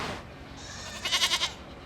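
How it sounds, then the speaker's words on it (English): Nigerian dwarf goats at a county fair give a short burst of quavering bleats partway through, moderately loud over a busy, noisy fairground background. "these are my Nigerian dwarf goats."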